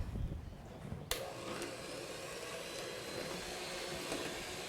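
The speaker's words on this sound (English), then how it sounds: "Now we're gonna mix it with a handheld mixer. We're gonna start on a low speed." A handheld mixer on low speed beats yellow cake mix, a steady close whirring drone that starts with a sharp click and keeps going at an even level, with no talking.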